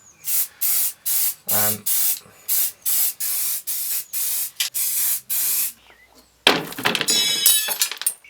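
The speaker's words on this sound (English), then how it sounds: "just going to whack some VHT black that I had left over on them" Short bursts from an aerosol can of VHT black paint coat alloy wheels, about a dozen close, evenly spaced sprays hissing one after another, followed by a clattering, clinking rattle of the can or parts.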